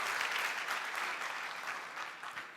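Audience clapping at an IAM Karachi talk event, a continuous dense patter of many hands, moderately loud and steady, easing slightly toward the end with no speech over it.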